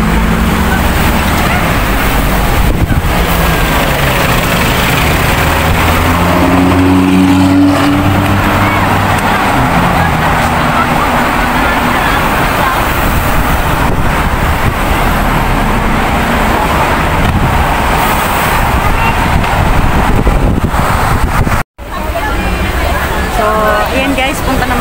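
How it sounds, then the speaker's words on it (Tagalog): Double decker buses move through busy street traffic, engines rumbling and droning under constant road noise, with someone talking over much of it and a brief dropout near the end. "Ayan, mga double decker bus."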